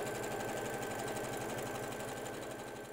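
Sewing machine running steadily while finishing a quilt seam on a jelly roll race quilt, a fast even mechanical whir and rapid stitching pulse, close and continuous with no talk.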